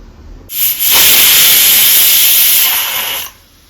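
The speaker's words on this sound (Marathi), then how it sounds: "आता मी कुकरचं झाकण लावते आणि हा गॅसवरती याला 4-5 शिट्या होऊ देते" A pressure cooker on a gas stove lets off steam in one loud, sustained hissing whistle that starts abruptly, holds steady for nearly three seconds, then cuts off.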